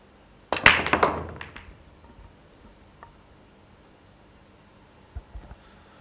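A pool break shot in a professional match: the cue ball cracks sharply into the rack, followed by a rapid scatter of clacking balls, then a quiet hall with a few faint later knocks of balls hitting cushions or pockets.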